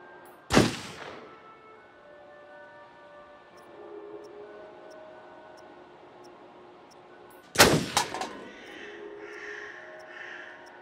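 Two loud, sharp gunshots in the survival horror video game Until Dawn, several seconds apart, each with a booming echo that trails off, over a quiet ambient game backdrop with faint crow-like calls.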